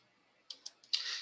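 Computer mouse clicks, three crisp, close taps in quick succession followed by a slightly longer click-rattle, alone in near silence.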